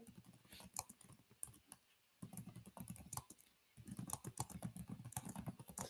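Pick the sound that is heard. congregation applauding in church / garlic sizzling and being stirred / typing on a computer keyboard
typing on a computer keyboard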